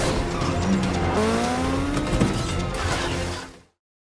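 A car chase with police in a Korean film. A car engine roars steadily under loud tire squeals and skidding, with a rising whine near the middle, before the sound cuts off abruptly.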